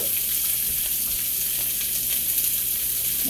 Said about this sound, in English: I'm gonna start cooking these veggies in just a second.